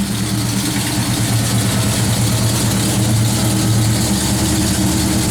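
A 1977 Jeep J20 full-size pickup engine idles steadily with a deep, even low rumble that stays constant and close throughout, with no talking over it.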